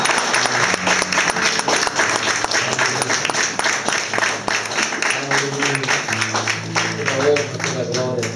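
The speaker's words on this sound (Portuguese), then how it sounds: "Dá uma salva de palmas ao Senhor." Church congregation applauding during a communion worship service, a sustained loud wash of clapping with musical tones and voices running underneath throughout.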